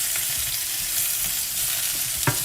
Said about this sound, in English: While the eggplants are being fried